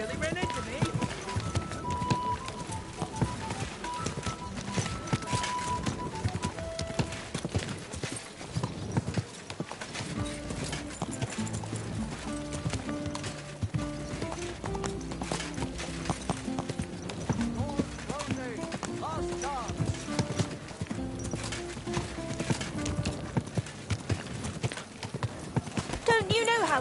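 Horse hooves gallop in a steady, rapid clip-clop in Kingdom Come Deliverance 2, continuous and prominent throughout, with game music and occasional character voices layered over the hoofbeats.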